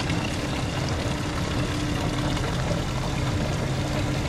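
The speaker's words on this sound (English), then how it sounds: "Pumping water out of the reservoir." Water pumped out of an offshore freshwater reservoir through an inlet hose, pouring in a steady, dense rushing wash with a low mechanical hum beneath, continuous and unbroken.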